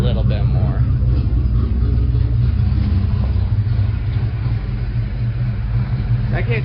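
A 1989 Ford Mustang Foxbody hatchback engine idles roughly with a steady low rumble and an uneven, missing beat, close and fairly loud, while someone talks over it.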